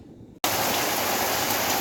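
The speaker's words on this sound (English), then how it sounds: "we've had the hail and now we've got the rain" Heavy rain pouring down during a Queensland storm just after hail, starting abruptly and then roaring steadily and loudly close by with no pauses.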